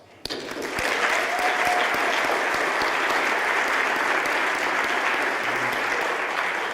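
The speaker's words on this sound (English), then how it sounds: "He really deserves your applause." Audience applause for a long-serving volunteer chair at a volunteer-of-the-year recognition event, a dense, steady roomful of clapping that starts abruptly and holds at full strength throughout, with no talking.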